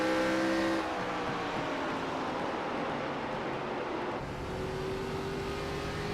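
An ARCA stock car circles Richmond Raceway, its engine a loud sustained roar with a pitch shift partway through, heard from onboard with no talk.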